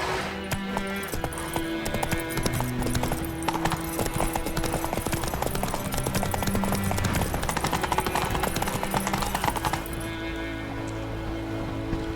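Horse Roach's hooves clip-clopping in The Witcher 3, a brisk, rhythmic, close run of hoofbeats with faint tack jingles over a music bed, easing off near the end.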